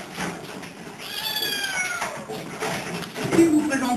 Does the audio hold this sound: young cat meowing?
yes